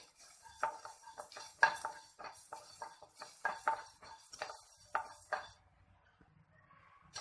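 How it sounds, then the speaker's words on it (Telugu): Cinnamon and cloves stirred as they fry in a pan for a bottle gourd masala curry, heard as a steady run of close, quick spoon scrapes and clinks against the pan that stop near the end. "అలాగే చెక్క లవంగా కూడా వేసేద్దాము వేసేసి ఇవి కలుపుకుంటూ ఫ్రై చేసేసుకుందాము"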